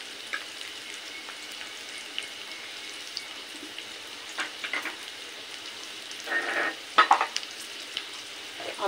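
Potatoes fry in a pan with a soft, steady sizzle, broken by a few louder scraping stirs toward the end, and no one speaks.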